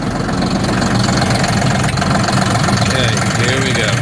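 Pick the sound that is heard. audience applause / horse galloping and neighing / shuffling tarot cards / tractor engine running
tractor engine running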